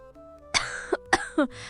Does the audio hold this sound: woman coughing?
yes